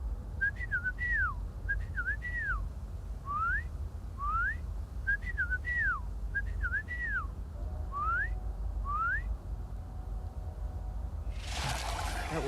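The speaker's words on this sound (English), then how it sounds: "let's see if she still knows my whistle." Rising and falling two-note whistles repeat in short bursts, called out in the game Fallout 76 to summon Sloane, over a low steady rumble, ending in a brief burst of broadband noise.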